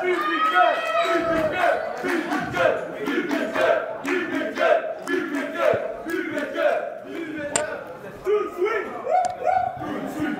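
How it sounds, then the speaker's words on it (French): A wrestling show crowd cheers a team's entrance with loud, rhythmic chanting and shouting that fills the hall for about ten seconds, with sharp whistles near the end. "Très acclamé, très applaudi"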